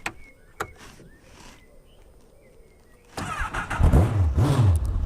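An Indy R lightweight car powered by a Honda CBR1000RR engine turns over with a couple of starter clicks, then fires up midway and settles into a loud, close, fluctuating idle with blips of revving.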